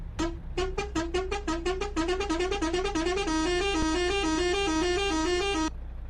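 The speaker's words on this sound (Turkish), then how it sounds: "Çok güzel bir havalı korna koymuşlar." A loud air horn on a bus in Euro Truck Simulator 2 blares in rapid short bursts, then holds into a long continuous blast before cutting off, over a low engine rumble.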